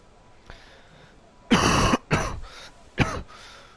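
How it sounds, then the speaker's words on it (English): Someone with a cold or COVID coughing and clearing their throat close by, several harsh bursts in quick succession followed by a softer hack. "Again, excuse the coughing."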